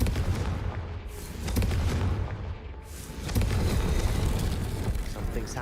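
A Confringo fire spell is cast in the video game Hogwarts Legacy, giving booming blasts and rumbling impacts that swell and fade over dense game noise, with voices mixed in.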